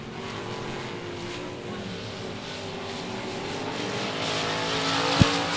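Race cars circle Cotton Bowl Speedway in a steady, loud engine drone with a revving tonal whine that swells toward the end, capped by a single sharp knock.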